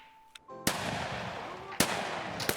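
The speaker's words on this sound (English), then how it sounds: "After we hear scavs shooting at him" Scav gunfire in Escape from Tarkov, aimed at another player, booms out in three heavy reports with long echoing tails, following a quiet stretch.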